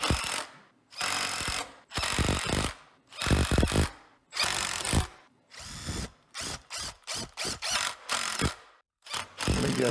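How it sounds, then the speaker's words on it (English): A power drill drives screws into a detailing cart shelf during assembly, with repeated close, loud whirring bursts of varying length, some with ratcheting clutch clicks, separated by short pauses. "I went back to inserting a bunch of screws, and it's a lot of screws. I had to screw them all in"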